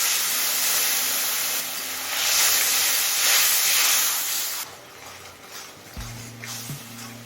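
A burst of steamy hissing as a little water hits ground spices, chili powder and salt, frying in a pan for a mete alu (yam) curry; the loud sizzle runs steadily, then softens, with a couple of low knocks near the end.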